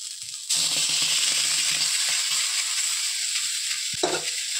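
Bean chutney with gravy sizzles loudly in a pan while being stirred, a continuous bright frying hiss broken by soft scraping and a clink of the spoon against the pan.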